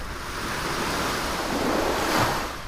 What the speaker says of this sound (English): You can literally hear the waves.